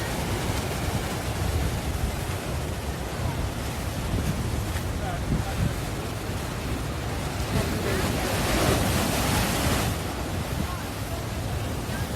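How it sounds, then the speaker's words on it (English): High ocean waves break at Nyang Nyang Beach in Bali, a continuous roaring wash of surf with heavy wind rumble across the microphone, with no voices standing out. "the waves are extremely high"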